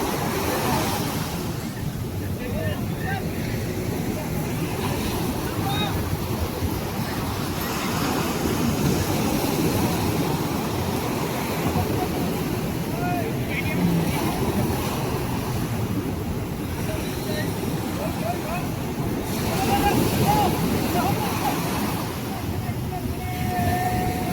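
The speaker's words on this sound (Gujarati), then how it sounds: "જો મિત્રો કેવી મોજામાં આપણી બોટો નીકળે છે ધીમે ધીમે" Fishing boats push out through breaking sea waves, a loud steady wash of surf and engine rumble, with someone speaking over it.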